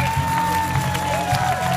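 Spectators at the 2015 Opel company fun run greet the race winner with applause and cheers, a steady mass of clapping and crowd noise heard briefly at moderate distance, with a sustained tone running underneath.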